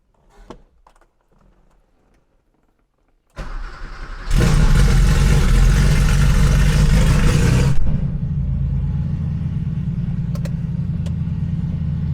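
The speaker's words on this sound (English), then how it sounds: "we're gonna go ahead and do a cold start on the car here and back it out" A 1985 Porsche 911 3.2 Carrera with a Fabspeed muffler delete cold-starts: a starter cranks briefly, then the engine catches with a loud, raw bark and high revs before settling into a steady, rumbling idle.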